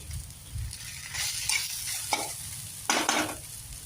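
Okra being stir-fried in a pan over high heat, with a steady sizzle under repeated scraping and stirring strokes, a few sharper spatula clinks standing out near the end.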